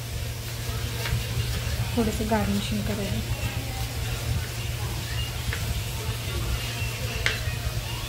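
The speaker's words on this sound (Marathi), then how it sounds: "ते पनीर आता चांगलं मस्त लाल भाजायचं बघा." Paneer pieces fry in a hot pan with a steady crackling sizzle, as someone talks over the cooking throughout.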